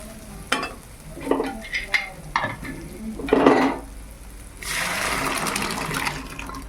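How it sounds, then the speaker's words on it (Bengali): Peas for ghugni are added to a frying pan with fried coconut and stirred with a utensil, giving several scraping strokes against the pan followed by a steady loud sizzle. "এইবার মটরটা দিয়ে দেই"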